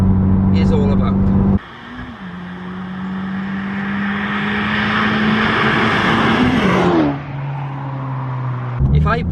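A modified Honda Civic Type R on Michelin Pilot Sport 4S tyres drives mountain roads, its engine droning loudly and rising through a long pull, with sharp drops at gear changes and a faint voice near the start and end.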